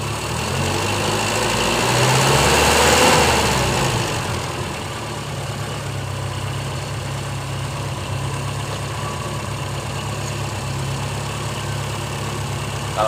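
A BBG gas-fuelled car engine idles at about 1000 rpm after adjustment of its reducer, a steady, loud, close low hum that swells briefly near the start, then holds even with no talking.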